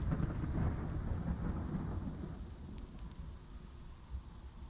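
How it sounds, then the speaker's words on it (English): A storm at sea with deep rolling thunder and steady rain, the rumble strongest at first and slowly fading into a continuous wash of rain, with no voices. "lightning thunder right into the deck of the ship"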